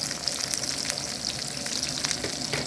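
Butter melts and sizzles in a hot pan beside a steak and crushed garlic cloves, making a steady, close, bright crackling fry with no talking.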